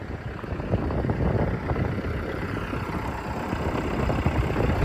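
A CAT 420E backhoe loader's diesel engine runs steadily at idle, a dense, loud, close rumble that holds even throughout with no talking.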